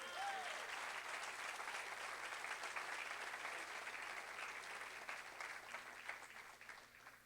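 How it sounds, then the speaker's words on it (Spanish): A church congregation applauds during a sermon, steady sustained clapping throughout, moderately distant and even in level. "Dale un aplauso al Señor."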